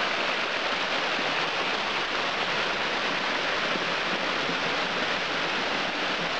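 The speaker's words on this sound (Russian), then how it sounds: "Пожалуй, это последний водопад на сегодня." A waterfall on a tributary of the Uzundzha river near Yalta, giving a steady, dense, broadband rush of falling water that holds constant throughout, close and unbroken, with no voices.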